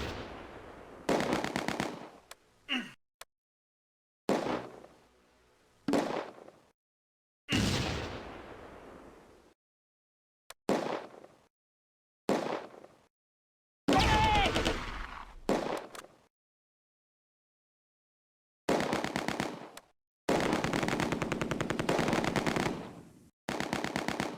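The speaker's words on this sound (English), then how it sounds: "Another firefight breaks out with the reserve squad and MG42 in the buildings opposite" Bursts of MG42 machine-gun fire in a Close Combat firefight, with rattling volleys in separate clusters and gaps of silence between them, ending in longer sustained firing.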